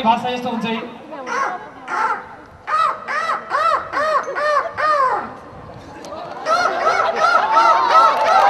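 A human voice imitates crows cawing loudly at a lion festival in Nepal, giving a run of harsh rising and falling caws in quick bursts, close and forceful.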